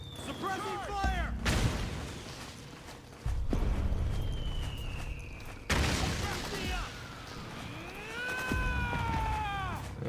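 Bursts of suppressing gunfire in Metal Gear Solid 4 come as loud, abrupt volleys, with sharp onsets at intervals and game sounds and a voice mixed in between.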